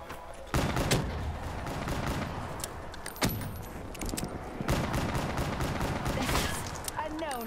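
Gunfire in the zombies mode of Call of Duty Black Ops III rattles in rapid bursts and sharp single shots over a dense game soundscape, with voices shouting between the volleys.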